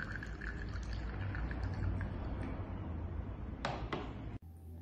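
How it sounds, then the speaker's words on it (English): Hot water pours steadily from a kettle into a cup, a soft continuous trickle that runs for several seconds and ends abruptly, with a couple of faint clicks near the close. "Mom pours hot water from kettle into the cup."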